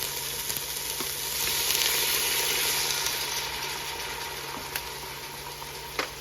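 A small splash of water hits a hot pan of browning chicken, bursting into a loud, steady sizzle that swells and then slowly settles, with a few faint clinks of a utensil.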